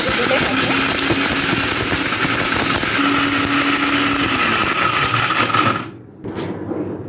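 A blender grinds whole spices for shahi masala, a loud, steady, close mechanical whir that runs continuously for about six seconds, then stops and briefly restarts more quietly.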